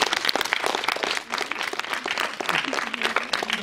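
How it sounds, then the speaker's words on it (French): Audience applause at a film and image festival's sound-effects (foley) session in Bressuire, a dense, steady wash of many hands clapping at close range, holding for several seconds with a brief dip partway through. "vous pouvez l'applaudir"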